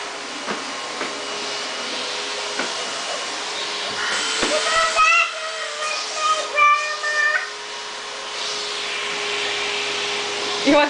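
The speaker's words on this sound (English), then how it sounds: "Grandma's vacuuming." Household vacuum cleaner running steadily indoors, a continuous whirring drone under intermittent voices and some brief higher-pitched sounds.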